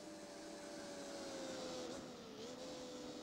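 Gran Turismo 4 racing car engine with a thin, steady vacuum-cleaner-like whine, a continuous droning hum with a faint rising and dipping tone, moderately quiet and unbroken.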